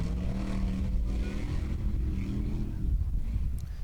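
An Icelandic Formula Offroad car's engine roars and revs hard through a swamp during a competition round, a loud, continuous, rough drone close by with no talk over it.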